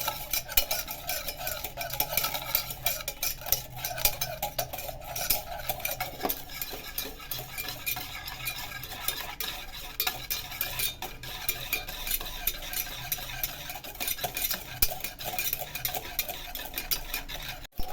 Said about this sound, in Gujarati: આ રીતે હલાવતા જવું, બરાબર મિક્સ થઈ જાય ત્યાં સુધી